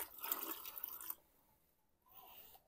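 Liquid bleach poured into a batch of homemade concentrated liquid laundry soap, a steady splashing stream for about a second before it stops, then a fainter trickle near the end.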